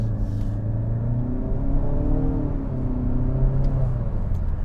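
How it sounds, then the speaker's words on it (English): Heard from the cabin, a 2021 Nissan Altima VC with a 2-liter turbocharged engine accelerates with a steady rising drone and low rumble, the pitch climbing, easing back, and climbing again, with nobody talking. "That is some very decent thrust, and I'll get into that in a little bit. But that 2-liter turbocharged motor, right?"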